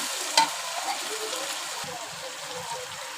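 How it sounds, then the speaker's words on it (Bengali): Meat with tomatoes, green chillies and salt is stir-fried in a pan, giving a continuous moderate sizzle with a sharp utensil tap early on and soft stirring scrapes throughout. "সামান্য পরিমাণে পানি দিয়ে ভালো করে মাংসটা কষিয়ে দিব।"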